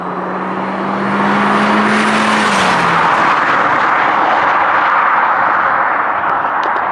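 A 2002 Audi TT is out on the road. The engine holds a steady, loud drone that climbs in pitch as it pulls, joined by a strong wash of road and wind noise.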